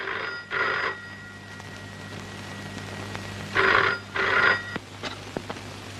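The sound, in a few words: telephone ringing with an incoming call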